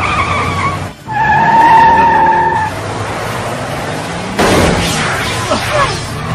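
A car reverses and swings around with tires skidding and squealing in a shrill, sustained screech, then loud engine and road noise, with voices in the background.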